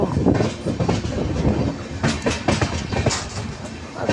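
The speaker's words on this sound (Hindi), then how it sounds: "देखो ट्रेन टर्न ले रही है।" A passenger train running on rails through a forested stretch while taking a curve, heard from on board: steady loud rumble with rhythmic clickety-clack of wheels over rail joints and faint wheel squeal.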